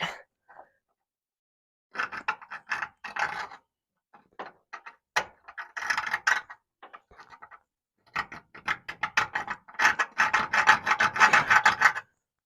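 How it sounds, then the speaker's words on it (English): A metal tool scrapes a score mark into the metal of a Dodge chassis, short bursts of close, gritty scratching in irregular strokes separated by pauses, building into a longer run of rapid rasping at the end, with no voices. "So you can see I've put a score mark in that now."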